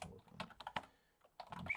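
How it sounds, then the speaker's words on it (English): Fingers tap a computer keyboard in a short, quick burst of close, crisp keystrokes, a brief pause, then a few more clicks. "I'm getting bad with the typing here."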